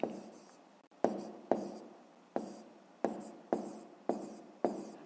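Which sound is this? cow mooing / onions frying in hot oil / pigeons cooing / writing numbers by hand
writing numbers by hand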